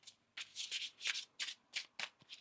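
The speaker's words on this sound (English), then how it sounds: "One more shuffle." Oracle cards are shuffled by hand in a series of about eight quick, crisp riffling bursts with short pauses between them, close and fairly soft, with no talking.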